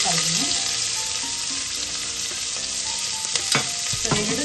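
Onion and spices frying in a hot pan for a vegetable kurma, with a steady close sizzle and occasional stirring scrapes running throughout, no talk.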